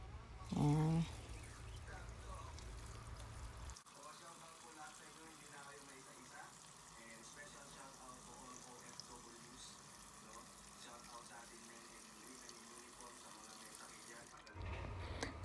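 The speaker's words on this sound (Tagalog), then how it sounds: "Lagyan natin ng tubig at ito ay ating ilalaga." Water from a tap filling a cooking pot on a Filipino kitchen stove, a soft steady pour running for most of the stretch, with a louder clunk at the start and end.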